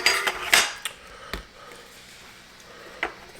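Shrimp are shifted with metal utensils into a taco holder, giving a few scattered clinks and taps against the dishware with quiet pauses between them.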